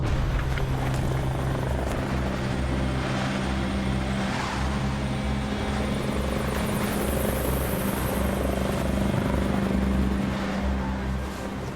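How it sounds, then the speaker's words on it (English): A rescue helicopter drones loudly and steadily overhead, its rotor chop and engine roar filling the whole stretch without letting up, as if passing close above. "you could hear this helicopter closer and closer as if it's just right over our head"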